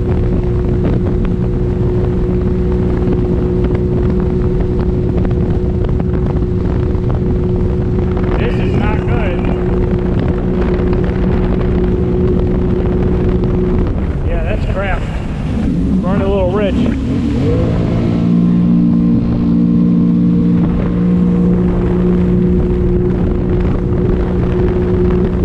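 Sea-Doo Spark Trixx personal watercraft with an 8900 tune accelerating from a standstill, its engine droning steadily and then rising in pitch during a sluggish takeoff, with wind buffeting the microphone and someone talking over it.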